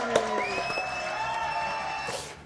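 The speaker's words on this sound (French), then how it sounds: "Applaudissements donc," A studio audience in a French comedy talk show claps and cheers briefly, with tonal music or sound effects and bright whistling tones layered over the applause before it fades out.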